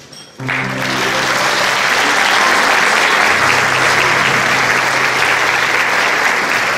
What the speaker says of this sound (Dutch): geef hem alsjeblieft een fantastisch applaus